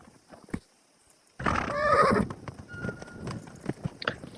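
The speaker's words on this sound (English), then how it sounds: "I just want to sell this horse." A horse neighs loudly and close in Kingdom Come Deliverance 2, a whinny rising and fading over about a second, with light hoof clip-clops and soft ambient game sounds continuing after it.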